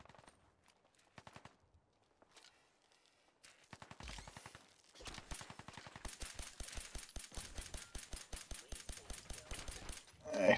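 Rapid bursts of gunfire in the video game Fallout 4 crackle in quick succession, sparse at first and then building into sustained automatic fire with sharp, evenly spaced shots.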